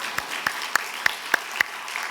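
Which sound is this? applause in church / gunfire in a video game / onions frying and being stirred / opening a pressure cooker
applause in church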